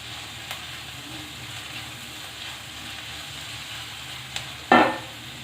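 Ginger drops into a hot frying pan while cooking malai kofta, a quiet steady sizzle running throughout and a brief louder sputter burst near the end, with no talking.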